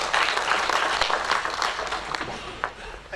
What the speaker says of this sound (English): Right, a big round of applause for,